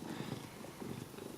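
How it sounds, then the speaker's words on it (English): A male cat with FIV recovering from a wound purrs steadily and close by, a low continuous rumble with gentle rhythmic swells across the whole stretch and no talk over it. "It's happy he is purring."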